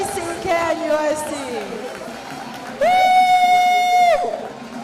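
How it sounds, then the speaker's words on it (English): Crowd applause at the KNUST opening ceremony of the 27th GUSA Games, a steady mass of clapping and chatter outdoors, while a loud sustained whistle-like tone cuts through near the end. "A round of applause."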